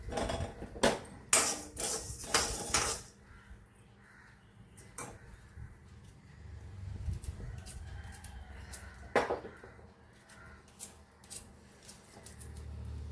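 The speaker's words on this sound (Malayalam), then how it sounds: "ചെറുത് ചെറുതായിട്ട് വെളുത്തുള്ളി കൂടി അരിഞ്ഞിടാം" A knife finely chopping garlic on a board in a home kitchen while dosa powder is prepared: a close burst of quick, sharp taps at the start, then sparse single knocks over quiet background.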